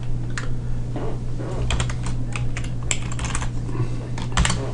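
Computer keyboard typing while working in Excel, a patter of light key clicks in irregular clusters over a steady low electrical hum, close and moderately loud, with no voices.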